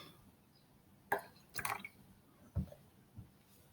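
Water dripping into a measuring jug, a few soft separate drips and small splashes spaced unevenly over a quiet background, close by and with no talking.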